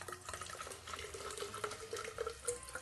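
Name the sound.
pouring hydrogen peroxide into a flask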